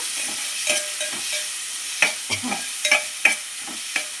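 Ridge gourd chutney being stirred with oil and salt: a close series of scraping, clacking spoon strokes against the pan, irregular and fairly loud, over a faint sizzling hiss.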